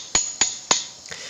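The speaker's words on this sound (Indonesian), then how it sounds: "Kalau berat kita perlu menggunakan palu atau stangsel, ini juga bisa untuk memukul asnya" Three sharp metal strikes from a stang or bar hammering a motorcycle axle through a drum hub on a Yamaha Vixion, about a third of a second apart, close and loud, followed by a softer fourth knock.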